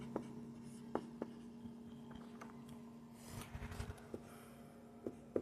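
Chalk or pen writing out an example chemical equation during a class 10 chemistry lesson, faint scratchy strokes and occasional sharp taps over a steady electrical hum, with no speech.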